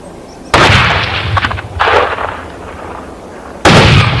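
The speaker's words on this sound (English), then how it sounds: "After a few gunshots, the boar was hit and collapsed on the spot." Loud hunting-gun shots fired at a wild boar in the field, two sharp close blasts about three seconds apart, each followed by a rolling echo, with a brief rustle between them.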